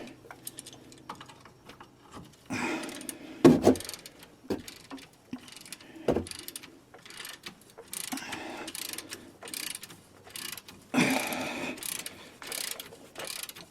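Ratchet wrench and socket clicking as a rear hub bolt is turned during a rear wheel bearing hub replacement on a Chevrolet Traverse, with bursts of mechanical clicking and clanks close by, no talking.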